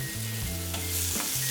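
Mushrooms sauté in a pan over high heat with a pinch of salt and black pepper, giving a loud, close sizzle with a few scraping stirs.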